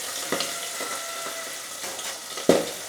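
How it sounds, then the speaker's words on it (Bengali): Pabda fish rubbed with salt and turmeric frying in hot oil, a continuous sizzle with a few sharper spattering bursts and clatters, fairly quiet and close. "এবার তেলের মধ্যে আমি নুন হলুদ মাখিয়ে রাখা পাবদা মাছটা দিয়ে দিচ্ছি"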